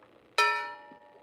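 A single bright metallic clink rings out sharply and fades, a gold nugget dropped into a metal pan.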